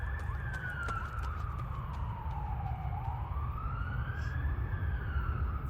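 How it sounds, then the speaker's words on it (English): A wailing siren sweeps slowly down and back up in pitch over a constant low rumble, with faint clicks scattered on top. "And the sirens."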